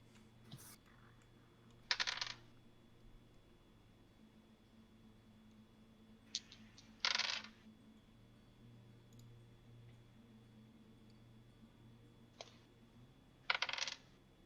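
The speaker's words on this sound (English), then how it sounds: "I love the sound of the dice rolls. I like the sound of the click clacks." Dice tumble and clack across a table in a tabletop role-playing game, in three short bursts of rapid clicking rattles spread apart. Quiet room hum sits between the rolls.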